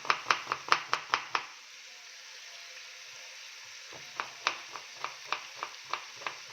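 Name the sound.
chopping onions and garlic cloves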